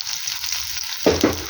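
Chopped pumpkin drops into hot oil with crushed garlic and spluttering cumin in a pan, the even frying sizzle jumping into a loud burst of hissing as the pieces hit, alone and close.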